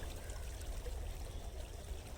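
Tubewell water flows along an irrigation channel through a farm field, a steady low rushing and trickling that runs unbroken and fairly quiet throughout.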